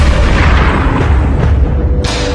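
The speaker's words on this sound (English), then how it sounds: "I added that gunshot because it's so much better" A loud gunshot effect blasts through, a heavy booming crack that fills the whole moment with dense, rumbling noise and ends with a sharp bright burst near the close.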